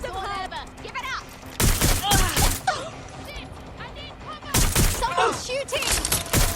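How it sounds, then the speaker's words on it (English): Gunfire in the Watch Dogs Legion video game, loud close bursts of rapid shots in two volleys, with voices and other game sounds between them. "Someone's shooting!"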